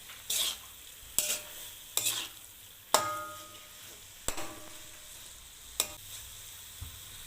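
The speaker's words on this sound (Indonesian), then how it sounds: "Kemudian tambahkan daun bawang, aduk rata, kemudian tunggu hingga matang." A filling with spring onion is stirred and fried in a pan, with sharp scraping strokes at irregular intervals over a soft, steady sizzle.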